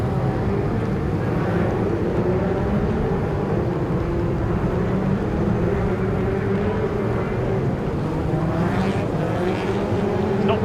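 F2 race cars running on a track at a Ben Fund race weekend, heard as a continuous, steady engine drone that stays loud and level throughout, with no voices.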